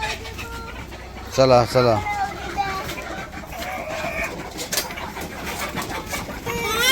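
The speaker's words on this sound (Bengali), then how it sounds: "দেখেন মুরগি সব জড়ো হয়ে গেছে" Village chickens gathering together, clucking and squawking nearby while a person calls out to them.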